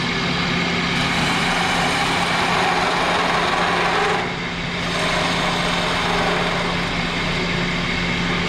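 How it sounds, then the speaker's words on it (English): A wood lathe spins a spindle while a parting tool cuts shoulders into it, producing a loud, steady broadband whir and hiss with a brief dip partway through. "I've used the parting tool to go ahead and create shoulders on both sides of the spindle"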